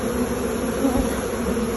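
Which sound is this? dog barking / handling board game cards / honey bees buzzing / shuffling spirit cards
honey bees buzzing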